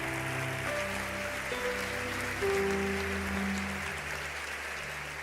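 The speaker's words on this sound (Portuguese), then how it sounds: "Se é para Jesus, você pode aplaudir." A church congregation applauds in a steady wash throughout. Sustained keyboard chords play underneath, and no distinct voice rises above the clapping.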